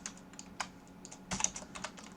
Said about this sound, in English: get used to the keystrokes, get used to copying and pasting